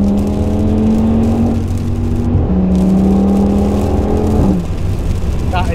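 A 900bhp Audi RS6 driving in the rain, its engine droning steadily and loudly throughout with rising and shifting tones, as if under acceleration through gear changes, heard from inside the car.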